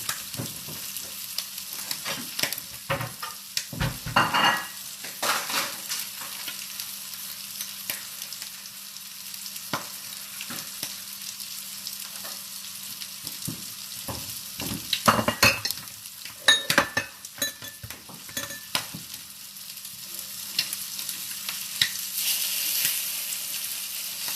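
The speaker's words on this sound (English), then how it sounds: "Popping bacon there." Bacon fries in a pan with a steady sizzle, broken by sharp pops and spits that cluster in bursts. A few clinks of utensils sound close by, and no one speaks.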